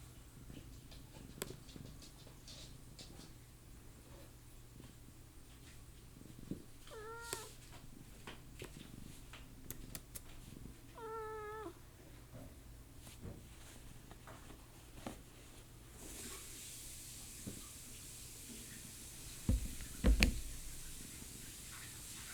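A kitten or small cat gives two brief, faint meows amid quiet room noise, followed later by soft shuffling and a few light knocks.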